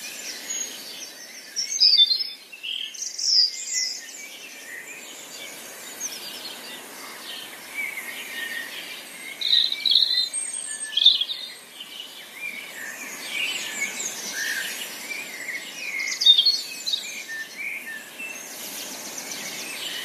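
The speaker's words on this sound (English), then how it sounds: "Hopefully you heard the blackbird singing in there, as well as I think one wren." Blackbird and wren singing in a spring woodland: bright, varied phrases and quick trills rise and fall over a steady, soft background hiss, with several louder bursts of song at moderate distance and no talking.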